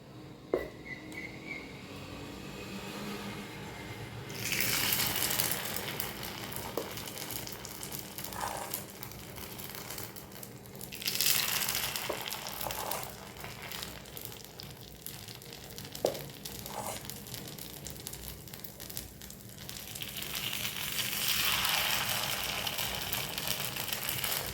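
Paniyaram batter is poured into the oiled wells of a hot pan and sets off bursts of loud hissing sizzle that swell, fade and return several times over a quiet kitchen background.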